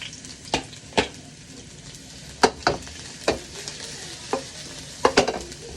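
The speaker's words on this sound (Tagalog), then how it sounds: "Tayo magigisa muna ulit." Garlic sautéing in a pan for a beef dish, with a continuous sizzle under sharp, irregular clacks of a utensil striking and scraping the pan, about a dozen distinct hits spaced unevenly.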